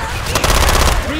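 Rapid automatic gunfire from the Left 4 Dead 2 video game, played on a custom map, forms a dense, loud burst of repeated shots lasting about a second, with a voice nearby.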